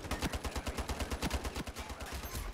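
A SCAR-H rifle fires in the shooter game Ironsight, a steady run of about twenty loud, close shots at a measured, fairly slow automatic rhythm.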